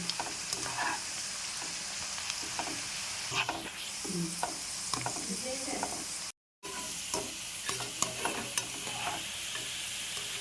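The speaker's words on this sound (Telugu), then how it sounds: "బాగా ఉల్లిపాయలు కూడా వేగిపోయినాయండి" Onions sizzle and crackle steadily in oil with scraping stirring sounds from a spatula, a close, continuous frying noise with no talking, while cooking mirchi ka salan.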